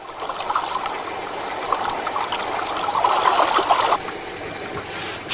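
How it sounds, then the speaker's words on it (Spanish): A continuous thin trickle of ferric sulphate poured into wastewater at a treatment plant, a steady close dribbling and splashing stream that holds on without pause. "Ahora se vierte continuamente un chorrito de sulfato férrico en el agua, descomponiendo el fosfato."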